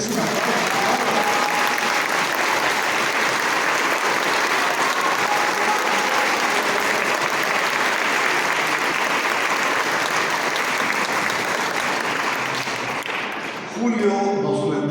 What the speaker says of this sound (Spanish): Sí, un aplauso, merece un aplauso.